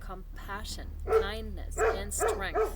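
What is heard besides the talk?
dog barking in the background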